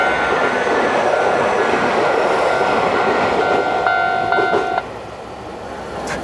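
A packed Tokyo commuter train rolls past close by in a steady, loud rumble of wheels and carriages, with a brief tonal squeal near the end before the noise drops as it clears.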